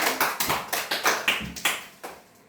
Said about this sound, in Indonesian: Boleh selamat tepuk tangan semuanya.